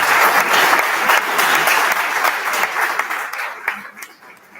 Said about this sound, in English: A huge round of applause for the